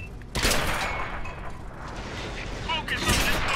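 Tank cannon shots in the World of Tanks video game, a loud broadband blast near the start and another burst toward the end over steady mechanical rumble, with a voice talking throughout.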